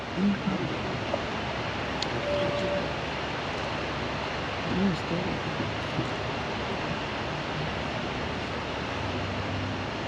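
A Yosemite waterfall gives off a steady, loud, unbroken rushing roar that fills the whole stretch, wind-blown and alone.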